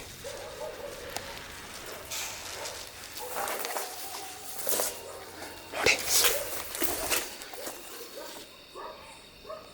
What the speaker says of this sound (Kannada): ನಾಯಿಗಳು ಕಂಟಿನ್ಯೂಸ್ ಬೊಗಳ್ತಾ ಇದ್ದಾವೆ